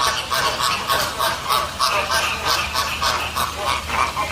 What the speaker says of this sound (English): if Tampa International Airport's famous flamingo Phoebe could speak, she would sound like this